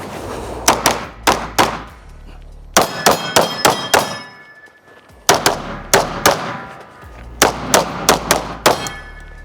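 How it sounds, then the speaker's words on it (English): Gunshots ringing off steel targets, loud close reports in rapid clusters of three to five, each with a bright metallic clang, separated by short pauses. "Y'all heard me blasting that steel"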